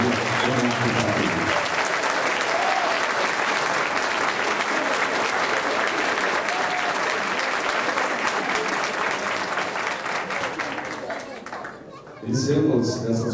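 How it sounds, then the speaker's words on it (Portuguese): Audience applause for new graduates of a university's Faculty of Technology at a graduation ceremony: a dense, sustained roar of many hands that fades out near the end, with voices heard at the start and after it dies down. "eu gostaria de pedir a todos os presentes uma calorosa salva de palmas aos novos profissionais da Faculdade de Tecnologia da Universidade."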